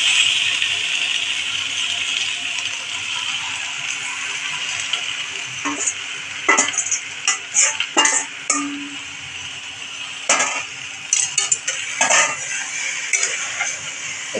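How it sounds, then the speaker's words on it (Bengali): Chicken meat stirred in a pan with no oil, a run of intermittent scraping and clinking strokes that grows busier midway, close, over a constant hiss. "মাংসটা দিয়ে দিচ্ছি, আর একটু নেড়ে নিচ্ছি"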